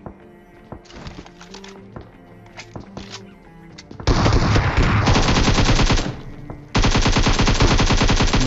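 Rapid automatic Uzi fire in a survival shooter video game, with softer scattered shots and thuds at first, then two long, loud, dense bursts of gunfire separated by a short pause.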